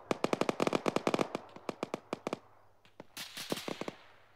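Bursts of automatic gunfire in the military shooter ArmA 3, rapid sharp shots in quick strings, a dense volley followed by a pause and then further scattered bursts.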